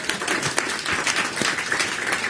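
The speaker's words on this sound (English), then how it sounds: "So a round of applause for Joe" At an employee happiness conference and book launch, the audience gives a short round of applause for a colleague, close and fairly loud, with some individual claps popping out of the wash.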